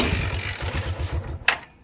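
Kawasaki Barako motorcycle engine catching and running after the choke is applied, a low throbbing idle pulsing steadily up close, with a sharp click near the end.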